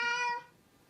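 A cat lets out a single clear meow, close and fairly loud, fading out after about half a second into quiet room tone.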